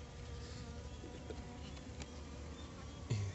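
Asian honey bees (Apis cerana) buzz around hive boxes stacked two into one, making a soft, continuous hum of many wings with occasional closer passes.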